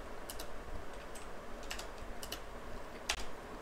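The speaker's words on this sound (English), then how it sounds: "I'll just type it in the chat." Light, quick clicks from a computer keyboard, typed in short bursts of a few keys with gaps between them, fairly close but soft against a steady room hiss, nobody talking.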